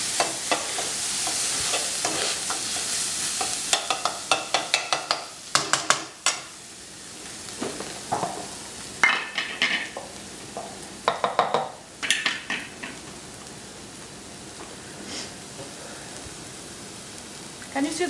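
Onions fry in hot oil in a pan for Punjabi yellow masoor dal, a constant sizzle with repeated scraping, clattering stirs of a spoon against the pot, sharp and close.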